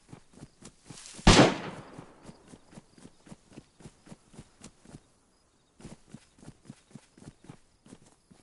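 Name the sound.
repeater rifle gunshots in DayZ video game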